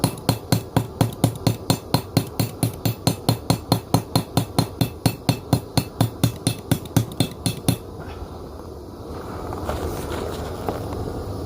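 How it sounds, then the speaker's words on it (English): Hammer forging steel into a flat knife blade: about thirty loud, evenly spaced ringing blows in rapid steady rhythm, then a sustained roaring hiss like a forge or grinder after the hammering stops. "Now that is how you forge really fast"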